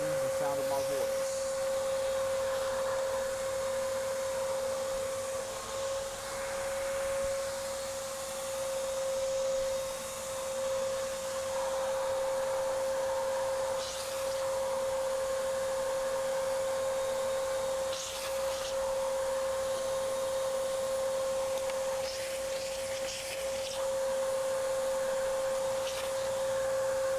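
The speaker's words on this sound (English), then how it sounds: "the sound of the vacuum may be louder than the sound of my voice" A vacuum drones steadily at a repair bench where PS5 consoles and other game systems are fixed. The hum is continuous, with a strong steady whine, and a voice talks faintly underneath it throughout.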